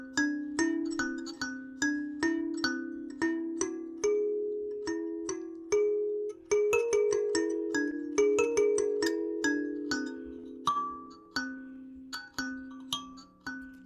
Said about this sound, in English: So if you were playing that song in the whole tone scale, it would sound like this.